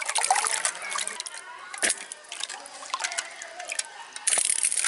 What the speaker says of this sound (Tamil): இந்த மாதிரி நம்ம கையால் போட்டு இந்த மாதிரி பசிஞ்சோம்னா அதில் உள்ள தோலெல்லாம் வந்துடும்